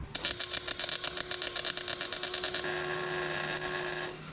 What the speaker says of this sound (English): I need to crank the welder up a little bit.